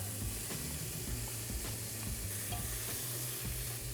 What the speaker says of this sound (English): So everything's gonna go in while the beef's still searing